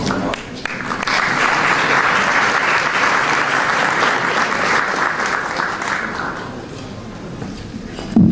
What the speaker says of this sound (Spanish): le recibimos con un cordial aplauso